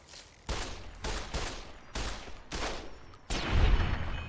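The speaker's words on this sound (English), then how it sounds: "Hearing the bullets bounce in slow motion is extraordinarily satisfying." Slow-motion gunfire in Fallout New Vegas: about six loud, evenly spaced shots roughly half a second apart, each with a sharp crack and a ringing tail, the last one heaviest.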